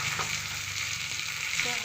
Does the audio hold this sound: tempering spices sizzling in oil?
yes